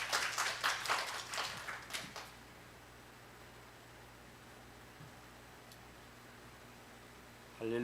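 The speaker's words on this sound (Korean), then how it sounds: "박수로 환영해 주시겠습니다." A Korean Baptist church congregation at a Sunday service in Tustin gives a short round of clapping to welcome the pastor, a crisp burst that dies away after about two seconds into quiet room hum.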